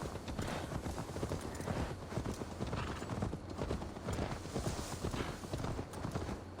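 Horse hooves gallop in rapid, steady clip-clop rhythm in Assassin's Creed Valhalla, close and continuous for several seconds, with a faint whinny and little talk.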